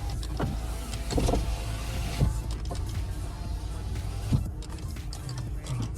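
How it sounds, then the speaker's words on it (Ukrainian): The power window motor of an Audi A4 Quattro diesel runs sluggishly, a close mechanical whirring hum with a few creaks and knocks as the glass moves, steady throughout. "Е, щось так погано вікно працює"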